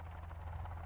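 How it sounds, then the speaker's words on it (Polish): A helicopter in the survival video game Sons of the Forest gives a faint, steady low rotor drone with a rhythmic thrum and buzz, heard on its own without talk. "O, helikopter, tutaj helikopter."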